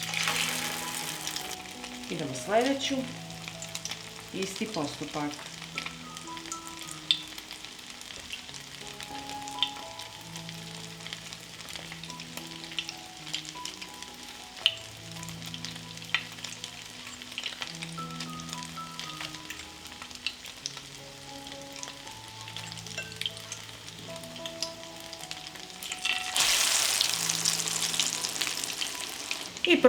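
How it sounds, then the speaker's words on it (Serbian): Zucchini slices coated in breadcrumbs, flour and an egg-and-cheese batter fry in oil, making a soft, continuous sizzle through the whole stretch, with brief calm speech near the start and a louder crackling burst toward the end. "I tikvicu stavljamo na ulje i pržimo."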